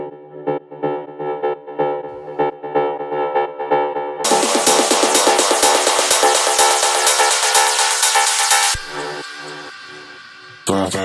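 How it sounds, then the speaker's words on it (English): A soloed lead synth from an electronic build-up in Ableton, playing rhythmic plucked notes that then open into a brighter, sustained, dense tone before cutting out, loud and alone. "So I soloed the lead and it sounds like this."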